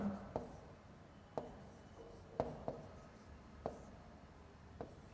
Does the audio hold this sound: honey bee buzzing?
no